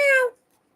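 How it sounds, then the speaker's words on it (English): A cat gives a single short meow, close and clear. The tone slides downward and cuts off quickly into silence. "The kitties are around somewhere."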